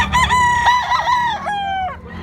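A single young rooster of Hulsey bloodline crows close by, a strained, wavering call that rises and breaks off, followed by a short trailing note.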